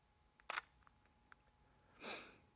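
A Sony a6000 mirrorless camera fires its shutter for a single photograph: a sharp, close mechanical click, a few faint ticks, then a softer second shutter sound in a quiet room.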